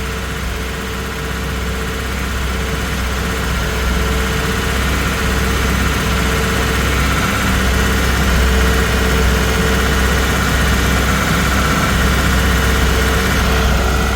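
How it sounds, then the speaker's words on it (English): A Ford Cortina P100 pickup engine idles steadily after seven months unused: a loud, continuous low rumble with constant mechanical vibration and no break for the whole stretch. "that engine is warm enough to idle"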